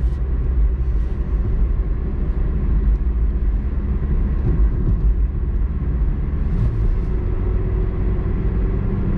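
Engine of a 1992 Citroen ZX car under acceleration on a highway, heard from inside as a steady, loud, low droning rumble with road noise, continuous throughout without talk.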